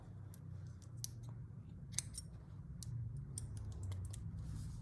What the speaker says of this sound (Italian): taglio il filo